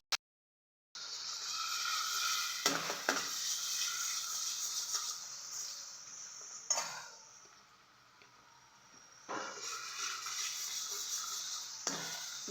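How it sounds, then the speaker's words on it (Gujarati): Chopped onion dropped into hot oil for a tempering while making Manchurian, giving a soft, steady sizzling hiss that fades briefly midway, with a few faint clinks of a pan or spoon. "તેલ થઈ ગયું છે, આપણે ડુંગળીનો વઘાર કરી લઈશું."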